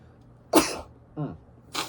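A single sharp sneeze-like burst, followed by a short throaty sound and another brief breathy burst, close and moderately loud in a quiet room.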